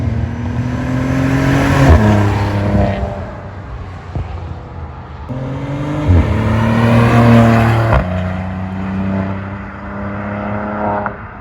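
A 2020 Maserati Ghibli SQ4's engine revs hard in sport mode in several rising bursts, each climbing in pitch before dropping back, loud and close with a throaty quad-exhaust growl.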